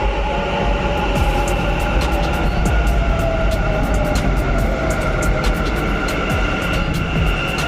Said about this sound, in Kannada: ಆ ಕಡೆಯಿಂದನೂ ಮೆಟ್ರೋ ಬರ್ತಾ ಇದೆ.